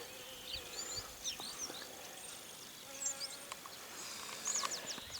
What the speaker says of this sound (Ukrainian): Тим не менш перші бджоли беруть воду